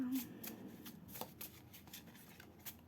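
Tarot cards being shuffled in quick, papery riffling bursts that repeat at an uneven rhythm, close and fairly quiet, with a faint voice underneath.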